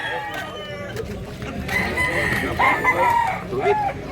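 Roosters crow over a busy outdoor background in Consolacion, Cebu, with overlapping drawn-out calls and some clucking, loud and nearby.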